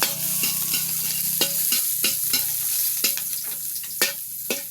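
Sponge gourd sautéing in coconut oil, a continuous close sizzle broken by regular scraping stirs of a spatula against the pan, with a faint low hum underneath and no voices.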